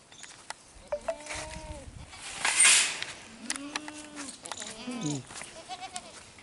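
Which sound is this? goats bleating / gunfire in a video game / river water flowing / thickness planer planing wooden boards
goats bleating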